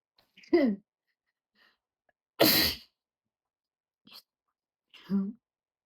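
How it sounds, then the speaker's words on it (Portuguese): A single sharp sneeze, loud and close, with a few small breathy vocal sounds and soft murmurs around it. "Acho que eu vou espirrar."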